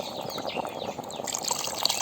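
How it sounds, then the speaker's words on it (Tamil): Water poured into Kongu-style chicken curry gravy for coconut shell chicken idly, a continuous splashing, bubbling pour heard close up. "இப்போ கறி குழம்புக்கு தேவையான தண்ணி இதில் நான் சேர்த்துக்கிறேன்"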